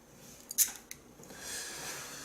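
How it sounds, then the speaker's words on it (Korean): A black Gerber MP600 needlenose multi-plier is folded closed with both safety levers pressed, giving a few quiet close metallic clicks and a snap, then a soft rustle, with no talking. "그래서 같이 양쪽을 눌러서 집어넣어야만 들어갑니다."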